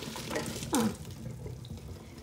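Water from cooked pasta pours into a kitchen sink in a steady gushing rush with a brief louder splash near the start.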